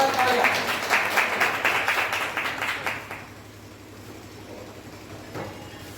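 An audience claps at a farewell ceremony for a retired education officer, loud sustained applause for about three seconds that fades away, leaving low room noise with faint voices.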